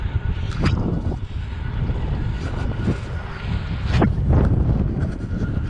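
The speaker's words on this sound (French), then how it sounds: "À un moment, le vent il était bien orienté dans le dos. Et non, un vent de face en fait." A strong headwind buffets the microphone of a cyclist bikepacking along long straight bike paths by the Loire, giving a loud, steady rushing roar with gusty surges and no speech.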